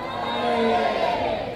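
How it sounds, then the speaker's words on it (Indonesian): A mosque congregation at a Maulid Nabi celebration cheers and shouts together in a dense, sustained roar of many voices, fairly close and steady throughout. "Boleh tepuk tangan buat orang-orang hebat."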